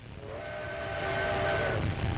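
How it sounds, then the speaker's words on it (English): Rail travel across desolate country on the railroad to Harar in 1935 Ethiopia, heard as a steady rumbling train with a sustained whistle-like tone rising over it, building slightly in loudness. "The train rattles across desolate country the Italians will have to fight across."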